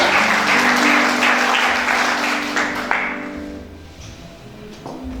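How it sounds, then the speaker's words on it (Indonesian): Loud congregational applause during a Christmas church service, thick clapping that fades out toward the end while sustained music tones continue underneath. "Berikan tepuk tangan yang paling meriah bagi Tuhan kita"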